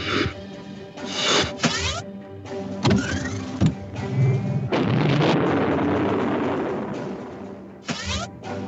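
Explosions from slug gun ships in a space combat video game, a string of loud separate booms and blasts with a longer rumbling burst in the middle, with no voices.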